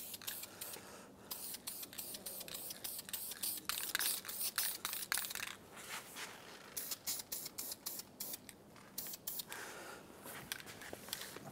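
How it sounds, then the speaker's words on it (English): Primer being sprayed onto a repaired cab corner panel of a 2001-2006 Chevrolet Silverado 2500, heard as a run of close, hissing aerosol bursts in short pulses, with no talking. "All right, now we just recoat with primer."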